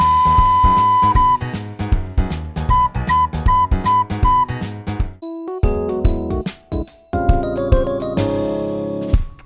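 A bluesy tune played over a loud backing track of steady drums and bass, with a thin whistle-like recorder line repeating short notes, then shifting to a different phrase in the second half.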